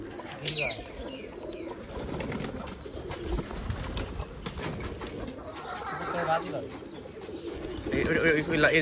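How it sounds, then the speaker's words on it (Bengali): Giribaz pigeons cooing at close range with brief bursts of wing flapping, set among soft background murmur and people talking at low level. "আচ্ছা ভাই, এইটাকে গিরিবাস কবুতর?"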